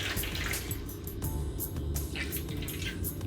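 Magic Eraser sponge being wrung out by hand, a quiet continuous trickle and splash of water with soft dripping and squeezing noises close up.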